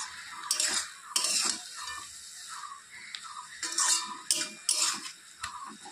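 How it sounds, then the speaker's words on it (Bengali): A utensil stirs lettuce greens cooking in a pan, making repeated scraping clinks and soft rustles in irregular bursts, close by over a faint sizzle. "এখন একটু নেড়ে চেড়ে দেব শাকটা।"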